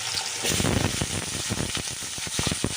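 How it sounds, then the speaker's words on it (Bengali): Potatoes sizzling and crackling steadily in hot oil in a pan, a continuous loud frying hiss with small popping bursts throughout. "প্রথমে আলুটা তো আলুটা একটু ভেজে নেবো"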